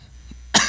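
A single short, sharp cough bursts out near the end of a quiet moment, close and fairly loud, from a pastor speaking in a chilly church.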